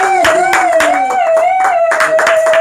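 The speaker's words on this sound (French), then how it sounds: "est-ce qu'on peut acclamer très fort?" A crowd at a first wedding anniversary celebration claps in a quick, steady rhythm, loud and close, over a sustained musical tone.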